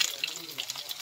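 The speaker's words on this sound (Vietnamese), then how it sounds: "bây giờ là chiên rắn đây" Stuffed snake frying in a hot pan, a faint, steady crackling sizzle with small popping spits, heard close up in a Central Highlands Vietnamese cooking setting.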